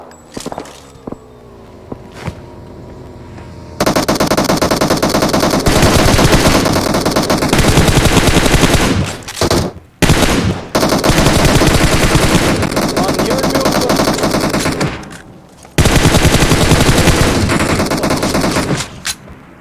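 Sustained automatic gunfire roars in a PUBG Mobile match, long loud bursts broken by brief gaps, with a few single shots and footsteps early on and faint voices underneath.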